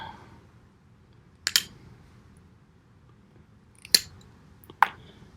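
A Buck Langford Linerlock folding knife cuts and strips material in sharp, separate strokes. Three brief, crisp snipping sounds stand out close against a quiet background, one early and two near the end.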